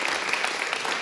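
An audience applauds the writers at a stage show, a brief, dense burst of clapping that stays loud and even throughout.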